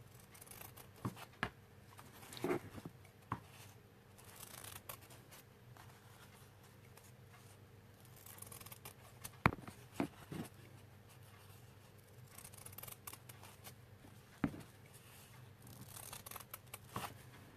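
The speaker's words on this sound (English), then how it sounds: "Ooh, cut that a bit crooked." Scissors snip through material while making a shabby chic flower, a series of sharp, scattered cuts at close range over a quiet background, with no talking.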